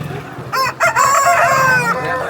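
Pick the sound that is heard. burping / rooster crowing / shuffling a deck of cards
rooster crowing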